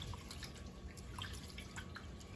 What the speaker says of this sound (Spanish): Aquí tengo 4 tazas de arroz precocido. Las voy a lavar bien para quitarle un poco el almidón.